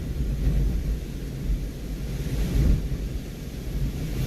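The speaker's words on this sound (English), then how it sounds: "Yeah, this is our storm today." A thunderstorm with wind in Adelaide, South Australia: a continuous deep, rumbling roar of wind buffeting and distant thunder, steady and fairly loud throughout with no talking.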